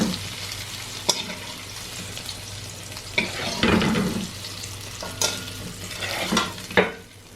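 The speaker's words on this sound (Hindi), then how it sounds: "3-4 मिनट बाद मैं बैंगन फ्राई करूँ, फिर आपसे मिलूँ" Eggplant and potato pieces fry in hot oil in a pan while being cooked for aloo baingan, giving a steady sizzle broken by sharp clinks and scrapes of a stirring utensil, with no voices.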